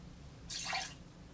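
A brief, close splash of 30 ml of coffee distillate poured into a cocktail, a soft liquid rush lasting about half a second against quiet room tone.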